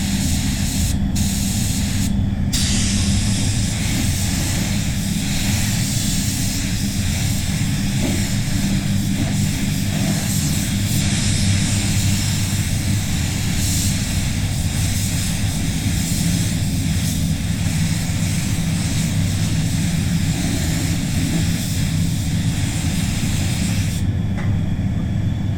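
A spray gun applies PPG clear coat to a Honda ZRV, a loud, continuous hiss of atomizing air that holds steady throughout with little variation, broken only by a brief change near the start.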